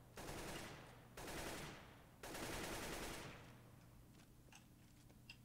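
CS:GO gunfire arrives as three long, loud bursts of sustained automatic fire separated by brief gaps, followed by quieter scattered ticks and distant shots, with no talking.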